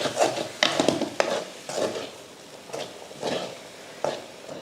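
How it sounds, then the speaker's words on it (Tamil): Variety rice being stirred in a pan over a low flame for a lunch box meal, with a series of soft scraping and clinking strokes of a spoon against the pan, close and moderately loud, with no one talking. "இப்போ கிளறி விட்டுருவோம்"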